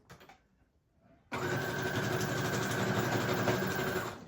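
A sewing machine stitches across a paper envelope flap, a steady whirring mechanical drone that starts abruptly after a short quiet pause and runs loud and close until the end.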